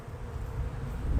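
Honeybees hum at a spring hive during a brief, steady buzzing moment, fairly faint and close.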